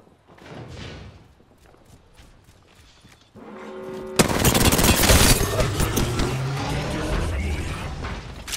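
Gunfire in the video game Apex Legends: scattered shots at first, then a loud burst of rapid automatic fire with mechanical clatter that continues densely to the end.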